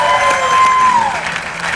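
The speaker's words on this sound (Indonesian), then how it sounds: "Buat tepuk tangan dong untuk" Audience at an Indonesian television talk show breaks into applause, a brief, loud, dense burst of clapping with a sustained tone and some crowd voices mixed in.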